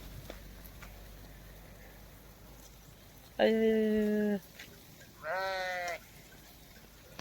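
Goats from a herd brought in from Maharashtra give two clear bleats, each about a second long, fairly close against a quiet outdoor background.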